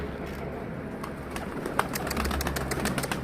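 Soft pigeon cooing and faint bird calls over a steady low outdoor rumble, with a few brief chirps scattered through.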